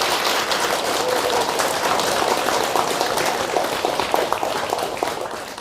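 An audience at a Buddhist temple Lotus Sutra prayer service gives the monks a warm round of applause: dense, continuous clapping from many hands, close and steady, fading slightly toward the end.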